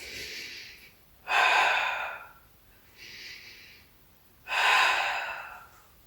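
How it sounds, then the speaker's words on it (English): Deep breathing during a mat Pilates exercise: two long, loud inhales alternating with softer exhales, close to the microphone, in a slow steady rhythm with no talk. "2 more big breaths."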